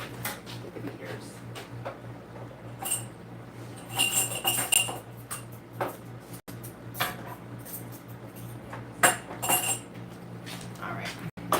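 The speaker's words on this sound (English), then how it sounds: "The whisk is making too much of a mess with the beaters." Metal whisk or beaters clinking and scraping against a mixing bowl while blending an infused cream and lip balm batch, irregular bright taps close by, with faint talk in the background.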